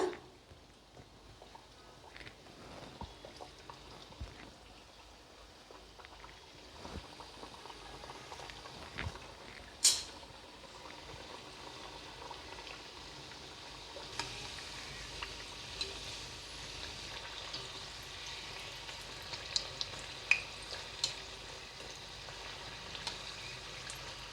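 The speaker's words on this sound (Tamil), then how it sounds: "இப்போ நான் எண்ணெயில் பொறிச்சு காட்டுறேன்" Stuffed evening snacks deep-frying in hot oil over a low flame, a soft continuous bubbling hiss with occasional faint pops and a sharper crackle partway through, quiet and without speech.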